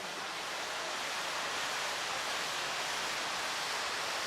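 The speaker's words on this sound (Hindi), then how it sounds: "क्या आवाज आ रही पानी की?" Steady running water heard in the background, a constant broadband rush like a stream or tap that stays level and unbroken throughout.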